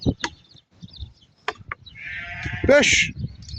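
Sheep and lambs at a livestock market in Barda, with one clear drawn-out bleat near the end rising over scattered shorter calls, thumps and background crowd noise.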